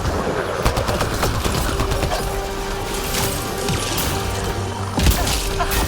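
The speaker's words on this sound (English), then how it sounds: "Take cover! Incoming fire!" Gunfire in the video game Mass Effect Andromeda: dense sustained automatic fire with repeated sharp cracks over a constant loud battle din, and one heavier impact near the end.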